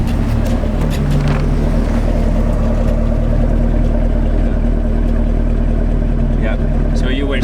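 A car with an LT1 engine, 455 horsepower, idles with a steady, loud low rumble and exhaust burble throughout, close by, with people talking faintly at a car meet.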